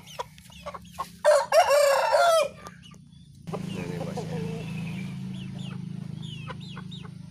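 A young bulbul chicken, a gift from a friend met at the market, clucks and crows loudly up close for about a second, then gives softer calls over a steady low hum and background noise.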